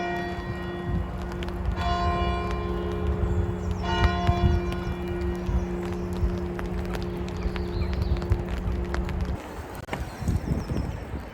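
A church bell tolls at a graveside, its ringing tones recurring a few times over outdoor ambience with wind and distant clatter, moderately far and fairly faint.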